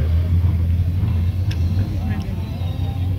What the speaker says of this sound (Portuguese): E um Peugeot.